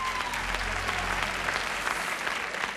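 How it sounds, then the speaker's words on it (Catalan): Audience applause for a contestant at the final of a Catalan spelling quiz show, a thick continuous patter of many clapping hands, close and loud, no voices over it. "Molt bé aquest aplaudiment per la Mireia."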